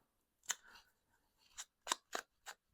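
Scissors snip a paper scrap in about five short, crisp cuts, close and quiet.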